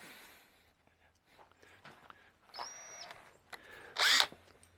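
A power drill bores into an old heirloom table, with faint clicks and handling noise before a short, high-pitched whine and then a louder burst as the bit cuts in, with quiet voices nearby.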